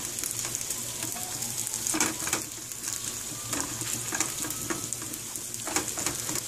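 Sausages sizzle and crackle steadily in a frying pan, a continuous close hiss broken by scattered pops and the occasional clink of stirring.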